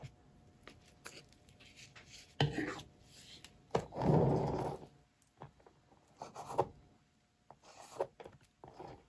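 Acrylic paint scraped onto a surface with a tool for a blue bloom paint-pouring technique, giving soft rasping strokes and a longer, louder scrape, mixed with light knocks and handling noises at close range.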